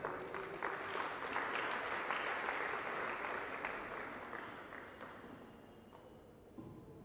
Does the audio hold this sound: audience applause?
yes